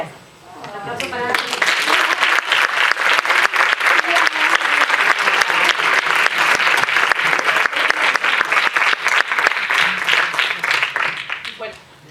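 An audience claps loudly and steadily for about eleven seconds, with a brief vocal shout at the start before the clapping swells. It then fades out at the end.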